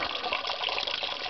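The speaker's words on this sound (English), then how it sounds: "water comes down into this bucket." Condensate water from an attic air conditioner's condenser pipe pours steadily into a bucket, a continuous close splashing trickle with no talk over it.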